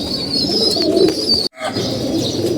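Healthy pet pigeons coo steadily up close in a loft in the late afternoon, a brief drop in sound partway through, with no talking.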